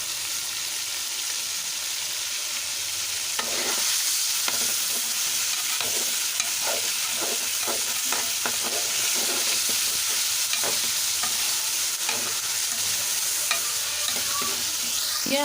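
Chicken browning in hot oil in a frying pan, a steady close sizzle broken by repeated scraping stirs of a spoon or spatula from a few seconds in, with no talking.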